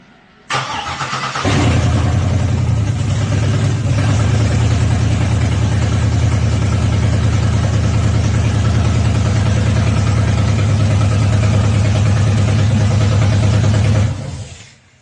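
A 1972 Oldsmobile Cutlass 442 convertible fitted with a 6.2-litre engine cranks briefly, fires and settles into a loud, steady, rumbling idle for about thirteen seconds, heard close and alone before it shuts off.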